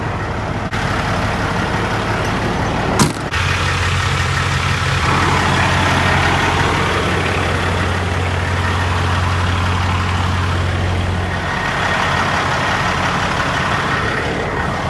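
Caterpillar ACERT truck engine idling in a yard, a steady low diesel rumble with a deep throbbing hum that holds continuously, a brief click near the start, no voices.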